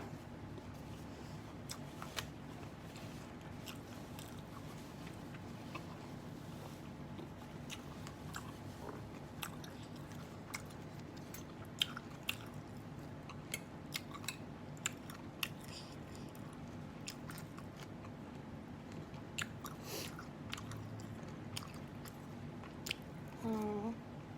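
Soft, close chewing and crunching of a big mouthful of fried riceberry rice mixed with nam salad, with irregular crisp bites and wet squishes repeating quietly over a faint steady background hum.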